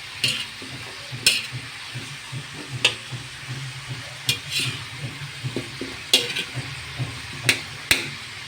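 Chicken feet are stirred and sautéed in a pan for a sinampalukang soup, with a steady low sizzle under scattered close clinks and scrapes of a utensil against the pan, and no voices.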